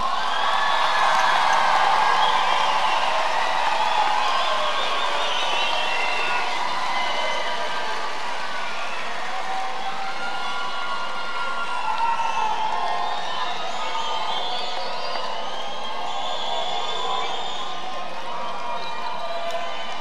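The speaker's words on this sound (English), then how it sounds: "Let's give all the graduates a nice round of applause." Graduates and guests at a college commencement ceremony applaud and cheer with sustained clapping, whoops and crowd shouts filling a large hall, steady and loud from start to finish.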